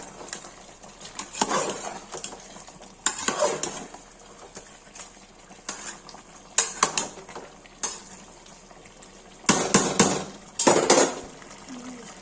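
Chicken marsala with turmeric stirred in a pan, with a utensil scraping and clattering against the pan in irregular short bursts over a quiet background sizzle.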